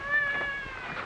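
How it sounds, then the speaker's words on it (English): A house cat gives a single drawn-out meow, close and fairly clear over faint room noise, in a 1950s television sitcom scene. "This is an all right cat."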